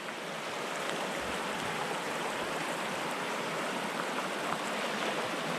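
Steady broadband rush of a river flowing over rocks beside a small rock pool at Bowen River Weir, continuous and fairly close with no voices.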